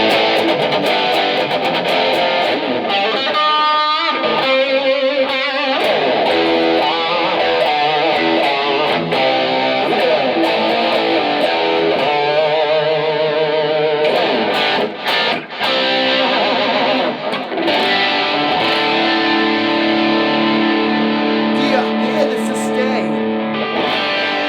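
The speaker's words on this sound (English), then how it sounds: "I'll put just a little distortion on it." An electric guitar on a PRS HFS pickup with a little distortion plays sustained chords and single notes, warm and slightly gritty, steady and fairly loud throughout.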